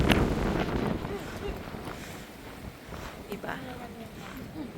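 Wind near the sea buffets the microphone in a steady rough rush, with faint voices talking underneath.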